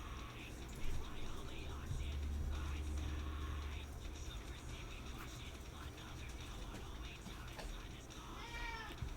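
A cat meows a few times at moderate distance over a quiet room background, with soft talking nearby.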